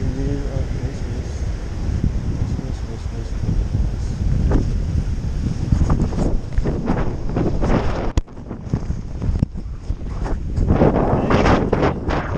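Strong, continuous wind buffets the microphone outdoors on a seaside bike path, a loud rumbling roar with gusts throughout and a brief sharp knock partway through.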